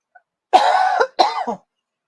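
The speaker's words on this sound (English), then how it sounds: "I felt the cough coming." A person coughs in two close bursts, the first longer and the second shorter with a throaty tail, loud and near with silence on either side.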